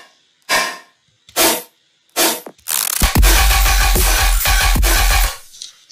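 Layered percussion hits added on the kick and snare of an electronic music track: a few separate punchy hits, then a dense loud rhythmic groove with repeated impacts, no voices.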